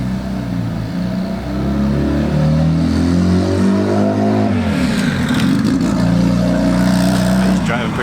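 A car fitted with a hydraulic-bearing-to-cable transmission conversion drives along. The engine drones steadily nearby, and its pitch dips and rises again as the driver changes gear.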